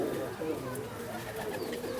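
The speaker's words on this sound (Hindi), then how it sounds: "ये एक कबूतर मैं आपको दिखाने जा रहा हूँ" Pigeons from a champion flying-pigeon loft, one held in hand, give soft cooing under a steady wash of nearby sound, with voices talking throughout.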